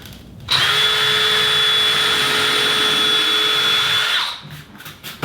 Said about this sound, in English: now I got my pilot holes done. I can go ahead and drill a little bigger hole.